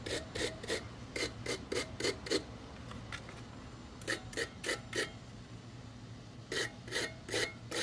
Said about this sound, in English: once you've kind of given them a little bit of a brush and a scrub